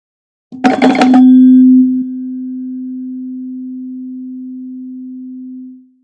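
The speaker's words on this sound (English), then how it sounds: "these are slightly out of tune with each other" A short plucked attack, then two slightly detuned tones sounding as one sustained pure tone that slowly fades over several seconds with a faint wavering beating pulse, alone and clear.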